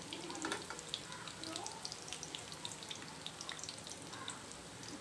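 Chicken jaali kebab fries in a pan over a medium flame, giving a steady, close crackling sizzle with scattered sharp pops throughout.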